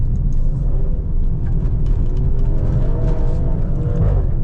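Engine of a 2025 Maserati Grecale Trofeo rumbles steadily from inside the cabin while driving, a deep continuous drone with a slight rise in pitch toward the end, loud and close.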